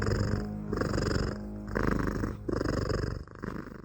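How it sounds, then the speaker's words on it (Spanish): A cat purrs loudly and close, a deep rumbling purr in rhythmic pulses with each breath, about six cycles, alone with no voices. "se levantó repentinamente, ronroneando con fuerza."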